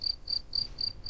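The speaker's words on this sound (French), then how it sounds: "un grillon chanter devant son trou" A cricket chirping in regular short pulses, five bright, even trills about a quarter second apart, fairly clear against a low background hum.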